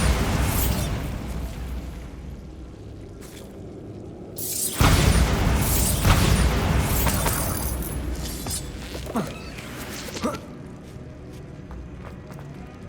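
A Bombarda spell blast in Hogwarts Legacy goes off with a sudden loud boom around the fifth second, then crackling debris and scattered bursts over a busy game backdrop of footsteps and ambient rumble.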